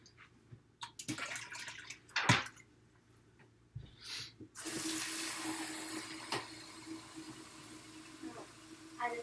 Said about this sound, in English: So I'm just getting tap water now and I'm going to cover it.